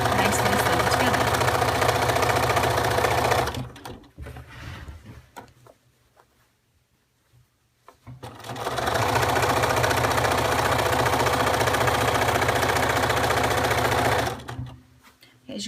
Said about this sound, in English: I'm just going to put it back under my machine and sew the rest of the binding on it.